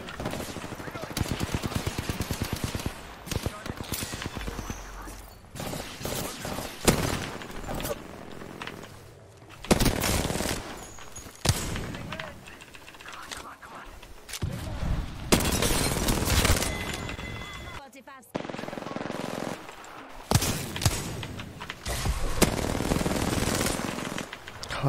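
Wingman handgun shots ring out in a video game firefight, loud bursts and volleys of gunfire in bunches with brief lulls between, while a player talks over the action.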